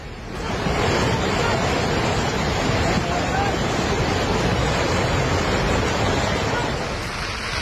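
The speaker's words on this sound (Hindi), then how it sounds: "मानो ऐसा लग रहा है कि लगातार बरस रहा पानी आसमान से आफत लेकर आया है।" Heavy rain and rushing floodwater during September floods in India make a loud, steady, broadband roar that holds almost unbroken for several seconds, close and overwhelming.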